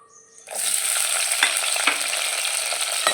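Green chilies hit hot coconut oil in a clay pot and burst into a loud, close, steady sizzle that holds with small crackling pops throughout.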